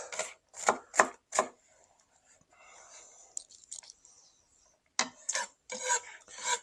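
A knife slices cabbage and carrot on a cutting board in a few quick runs of crunchy cuts, then a pause of faint rustling before more chopping, close and fairly quiet.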